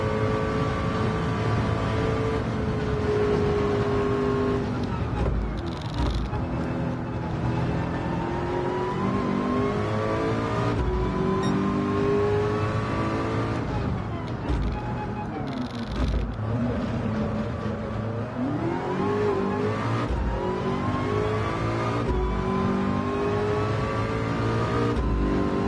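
Race car engine lapping Le Mans in a VR racing game, a steady loud drone with rising and falling pitch through gear changes and revs, running continuously with a few brief dips.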